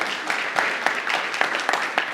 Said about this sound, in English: I ask you applause for him